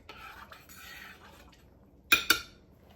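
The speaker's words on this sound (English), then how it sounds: "And the rest of that can of tomato sauce. Give it a mix." A utensil scrapes and stirs tomato sauce in a metal pan, with a soft rubbing swirl near the start and then two sharp clinks close together, quiet and close in an otherwise still kitchen.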